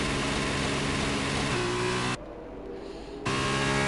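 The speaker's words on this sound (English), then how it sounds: "Big revving there from Destiel." Loud, steady race car engine revving in an F2 racing video game, a continuous high drone that drops to a muffled, quieter tone midway before returning at full strength.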